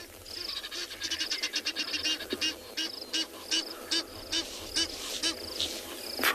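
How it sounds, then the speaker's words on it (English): Egyptian geese on a sunrise safari at a watering hole, honking in rapid repeated bursts over a steady bed of insect and cricket chatter, moderately near with no voices. "from one noisy bird, those Egyptian geese."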